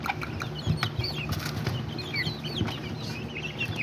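Small pinto rooster and hens of Azteca and Serama chicken breeds cluck and chatter in a yard, several birds close by with overlapping calls and a short flutter of wings.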